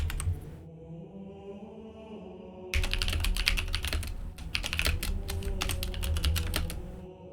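Close, rapid typing on a computer keyboard, quiet hum at first, then a dense run of clicking keystrokes lasting several seconds.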